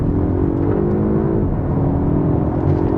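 A Polestar 1 hybrid GT accelerates hard in power mode, with a loud, steady engine and drivetrain drone heard from the cabin. Its pitch climbs, dips briefly at a shift, then climbs again, with no voices.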